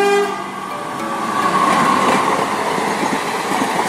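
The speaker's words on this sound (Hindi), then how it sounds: "ट्रेन ये जा रही है अलीगढ़।" A train heading to Aligarh passes close by, a loud continuous rumble with a horn blast at the start and rhythmic wheel clatter underneath.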